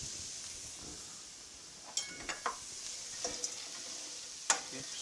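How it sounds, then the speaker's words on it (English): Quiet, steady sizzling of snow peas and vegetables stir-frying in a pan for cashew chicken, with a few sharp clicks and scrapes from stirring. "Stir frying that."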